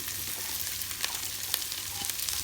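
Onions frying in oil and melted lamb tail fat, a steady close sizzle with soft crackling pops scattered through, no voices.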